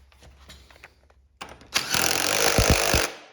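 An impact driver tightens the front wheel bolt on a Mototec Mud Monster electric go-kart, a loud buzzing rattle with rapid hammering bursts lasting over a second after some quieter handling noises.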